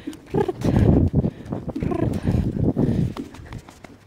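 Hooves of a ridden horse thud steadily and densely during a riding session, loud and close, with the rhythm blurring into continuous heavy footfalls.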